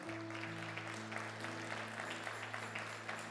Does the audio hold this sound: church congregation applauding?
yes